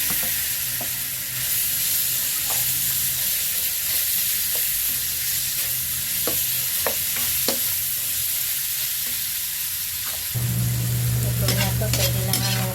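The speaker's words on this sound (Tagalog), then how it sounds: "Piprituhin muna natin tong chicken sa butter." Chicken breast frying in butter gives a continuous close sizzle with scattered utensil clicks as it is stirred, and the sizzling grows louder and denser near the end.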